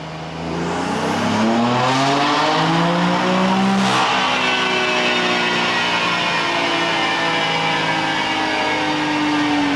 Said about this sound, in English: Let's blast this car on the dyno.